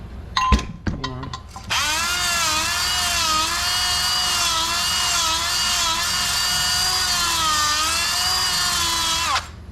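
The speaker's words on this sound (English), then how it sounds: "So I like to knock some of the rust out of here. I got a ball hone." A power drill spins a ball hone to scrub rust off a part on a 2000 third-generation Toyota 4Runner, whining at a loud, steady pitch for several seconds after a few short clicks and bursts.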